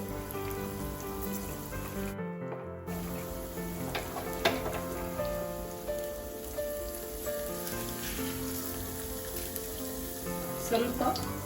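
Mustard seeds and crushed garlic fry in a little hot oil for a Mangalore-style mango curry, giving a steady close sizzle with faint crackles and stirring clinks throughout.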